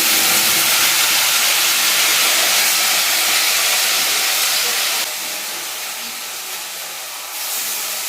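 Chana dal paste dropped into hot oil with fried dried chillies gives a loud, steady sizzling hiss that starts at full strength, eases a little partway through and then rises again.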